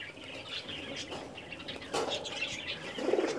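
Pigeons of a fancy breed, kept on a rooftop, flap their wings in short bursts with soft chirps and coos mixed in, fairly close and over a steady background hum.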